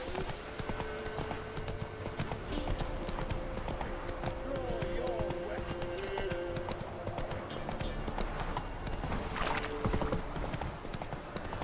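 Horse hooves clip-clop steadily in The Witcher video game, a continuous trotting rhythm under game ambience, with voices talking over it.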